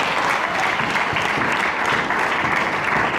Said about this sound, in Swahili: Chapia wana makofi makubwa.